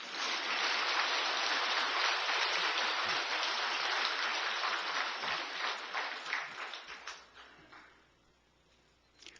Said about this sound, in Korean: 우리 노전 스님 애쓴다고 박수 한번 보내줘